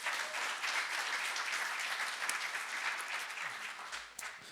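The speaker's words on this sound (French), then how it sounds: "Applaudissons le Seigneur Jésus." Church congregation clapping together during a French worship service, a dense, continuous wash of applause that stays steady throughout, with no voices rising above it.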